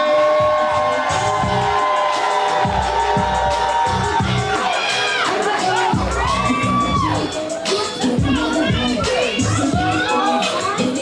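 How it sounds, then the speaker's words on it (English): Crowd at a live poetry event in Houston cheering, whooping and clapping for a poet, a loud and busy roar of shouts and high excited voices close by. "We're clapping, we're building energy, we're making all the noise for"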